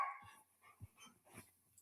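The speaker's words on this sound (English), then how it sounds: "that was my puppy" A puppy lets out a quick, faint yip at the start, followed by soft scattered thumps and rustles in a quiet room, with no talking.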